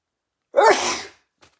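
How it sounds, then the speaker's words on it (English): A single sharp sneeze bursts out after a moment of silence, loud and close, trailing off quickly with a faint breathy sound afterward. "I sneeze."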